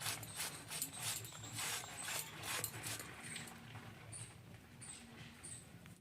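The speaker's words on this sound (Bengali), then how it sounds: "এইভাবে অল্প অল্প করে আমি সব শাক কেটে নেব।" A knife slices by hand through a tightly held bunch of grass pea (khesari) greens, a close, steady series of soft rasping cuts that eases off toward the end, with no one speaking.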